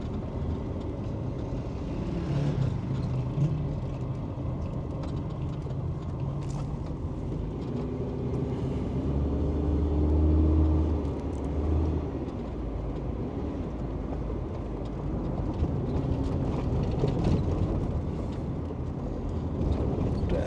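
Road traffic in a jammed street, a dense steady rumble of idling and slowly moving engines that carries on throughout, with a deeper low engine drone swelling in the middle.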